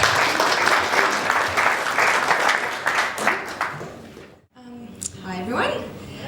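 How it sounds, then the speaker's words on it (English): An audience at a professional women's network launch in Taranaki applauds for Casey, with dense, steady clapping filling the first four seconds before breaking off, followed by someone speaking close up. "I think she deserves a round of applause for her efforts."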